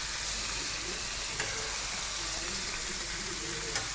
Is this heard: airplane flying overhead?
no